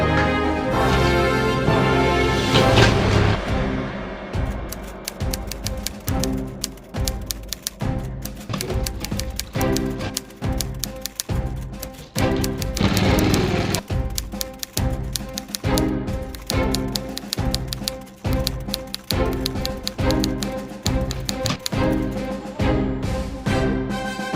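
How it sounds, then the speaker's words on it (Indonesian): A typewriter clacks out a proclamation text in a school stage drama about the Rengasdengklok events, with a long, rapid, steady run of keystrokes and occasional pauses over a continuous tonal background. "Tolong kau ketik teks ini"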